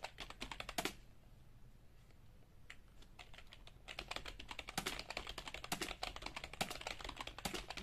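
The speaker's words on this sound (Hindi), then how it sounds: "इसी को फिर मीडियम स्पीड में टाइप करेंगे" Hindi text typed on a computer keyboard at medium speed: steady, close clicking keystrokes in uneven bursts, with a brief quieter pause near the start and no talking.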